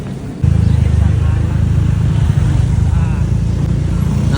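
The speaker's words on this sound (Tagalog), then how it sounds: "Naandar na motor namin oh." A motorcycle engine idles steadily after being refueled following a run out of gas, starting at about half a second with a loud, continuous low rumble and fast, even firing pulses close by, with faint background noise and no clear speech.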